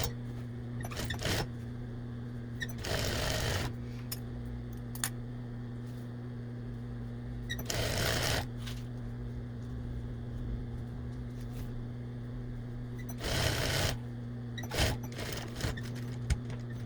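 A sewing machine stitches the ruffle of a kid's apron in several short, loud bursts of rapid whirring, separated by pauses filled with a steady low motor hum.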